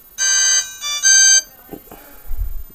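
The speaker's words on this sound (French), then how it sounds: "On va voir un peu le tour des sonneries." A Clap Easy 2 senior flip phone plays a short electronic ringtone, two bright melodic bursts close up, followed by faint handling clicks and a low thump.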